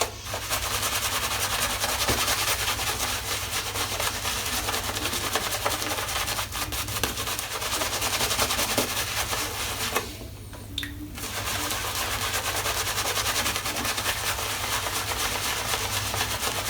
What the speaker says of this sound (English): So I'm going to get a nice thick coating of lather on you.